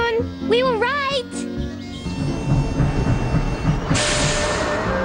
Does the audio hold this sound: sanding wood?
no